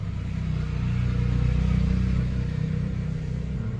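Bajaj CT 125 motorcycle idles steadily after its carburetor is tuned, a loud, close, low engine rumble with an even pulsing beat and no speech.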